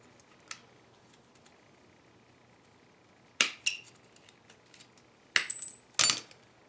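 Aluminum edging being cut, giving a few sharp metallic snips and clinks: one faint early click, then bursts of bright, ringing cuts close by near the end, with quiet pauses between.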